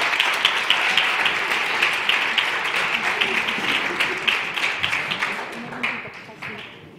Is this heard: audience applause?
yes